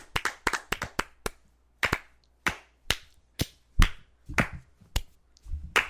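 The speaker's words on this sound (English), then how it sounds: "The last clap, folks." Bare hand clapping by a sports podcast host: crisp, isolated claps near the mic, a quick irregular burst at first, then slower single claps spaced out with quiet gaps between.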